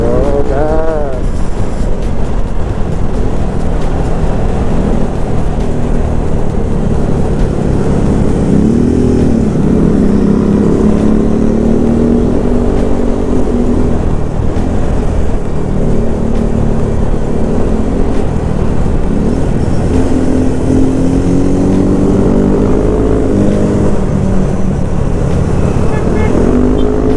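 A motorcycle engine revs and pulls on the throttle during a group touring ride from Cibodas, Cianjur to Bandung. The loud, steady drone rises and falls in pitch as the bike accelerates, with some wind rush mixed in.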